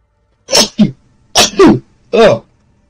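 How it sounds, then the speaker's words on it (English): A person sneezes loudly and close by, with a short sharp burst that leads into a couple of explosive follow-up bursts, all within about two seconds. "Oh, I gotta sneeze."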